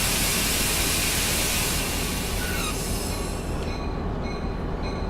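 Simulated commuter train in a Caltrain corridor train-simulator game braking to a stop at a station, a loud steady rumble of rolling rail cars with wheel squeal and brake hiss rising near the end.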